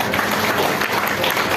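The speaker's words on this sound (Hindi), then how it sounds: "पहले तो जिन्होंने हैंड रेज किया है सबके लिए तालियां हो गई।" A seated audience at a talk bursts into loud, dense clapping that stays even and full for its short duration, with no voices rising above it.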